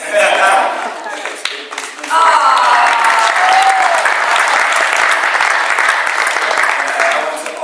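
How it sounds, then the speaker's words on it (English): Applause from the audience at a Berlinale film press conference for Selma, loud and steady clapping that runs throughout, with a short dip near the start before rising again and holding. "Thank you for the one applause."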